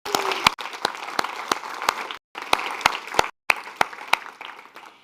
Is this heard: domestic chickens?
no